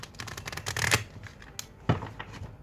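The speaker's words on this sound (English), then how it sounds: "Let me shuffle one more time." A deck of cards is shuffled up close in quick riffling bursts, followed by a softer second riffle.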